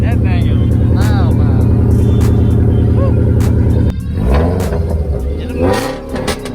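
Tuned cars with big turbochargers rev hard and loud nearby, producing a thick engine roar throughout with rising and falling revs. People talk over the noise.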